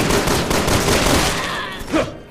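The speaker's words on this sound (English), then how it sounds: "I can actually just spam bullets right now." Rapid pistol fire from dual pistols in Resident Evil 6, a loud dense stream of overlapping shots that trails off into a final burst, close and continuous with no voices.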